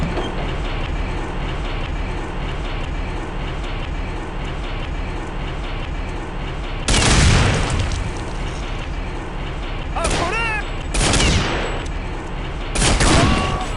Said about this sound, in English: I'll empty out this mag